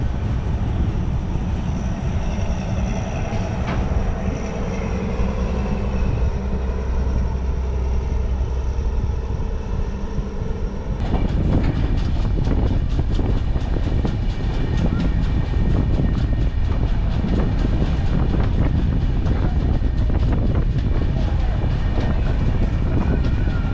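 An express train pulls away from Manamadurai station and gathers speed, with a steady, loud rumble of wheels and rolling noise that swells and grows rougher about halfway through, continuing without voices.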